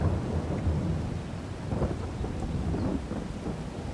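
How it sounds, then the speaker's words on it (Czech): Steady rain with low rumbling thunder in Farming Simulator 22 on a Czech farm map, a dense, continuous wash of noise with rolling deep rumbles throughout. "stejně prší."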